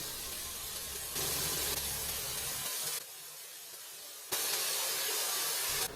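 Spinach and green chillies sauté in hot oil, a broad steady hissing sizzle that shifts level in steps as the pan is stirred, close and loud with no talking.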